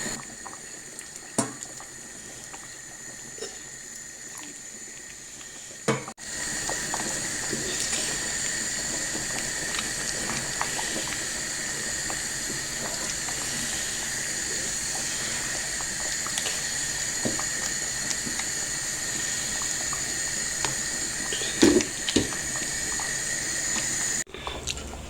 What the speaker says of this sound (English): So I'm going to be adding a little bit of hot water because the soup